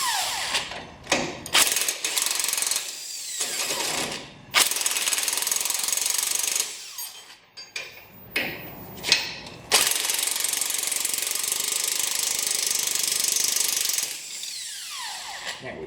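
A ratchet or power tool works the lower shock bolt loose on a 100 Series Land Cruiser during an AHC delete, in loud rattling bursts broken by short pauses, close by with no talking.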